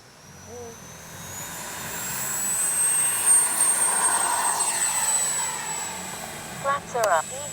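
A Freewing F-22 electric RC jet takes off, its high ducted-fan whine rising and swelling as it accelerates and climbs away, fairly loud against outdoor wind.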